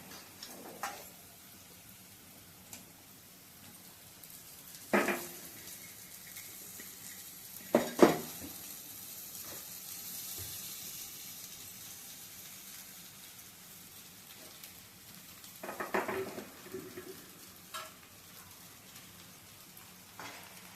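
Poha is stirred into onions fried with turmeric and salt in a pan. A faint, steady sizzle runs throughout, broken by a few sharp spoon-on-pan clinks and scraping stirs.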